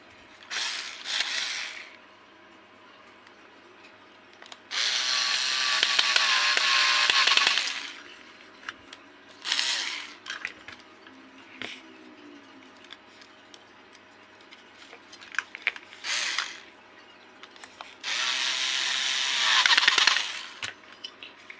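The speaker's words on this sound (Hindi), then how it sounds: "आपको इसमें केवल और केवल 2 स्क्रू कस देने हैं" Screws being tightened during repair of an LED fog light, with bursts of close ratcheting and clicking from a tool, longer whirring stretches, and quieter pauses between them. No one speaks.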